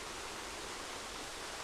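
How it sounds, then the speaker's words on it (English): The Buttermilk Falls waterfall roars in a steady, dense, loud wash of falling water, continuous and unbroken, with no voices. "it's a pretty cool waterfall set we got going on here"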